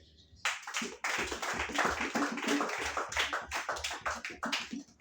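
A church congregation applauds during a worship service, its many hands clapping in a loud, rhythmic, steady beat that starts abruptly and continues throughout.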